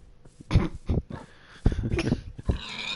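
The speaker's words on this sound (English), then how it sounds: "And look, a pig." A few short grunting oinks from a pig in Minecraft, close and choppy, with brief gaps between them.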